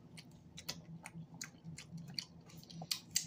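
Close-up chewing of loaded cheesy flatbread pizza, soft wet mouth sounds and small crunchy bites repeating irregularly, quiet and near, with no talking.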